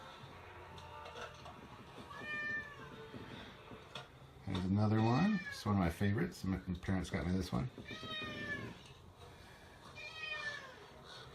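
A pet cat meows a few times in a room, its calls brief and mid-level, partly overlapping someone talking nearby about his collection.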